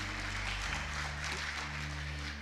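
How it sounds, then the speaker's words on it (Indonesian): A church congregation applauds during a sermon, a steady wash of many hands clapping at moderate distance that carries evenly through the whole moment with no one speaking over it. "Tepuk tangan buat Tuhan Yesus, haleluya."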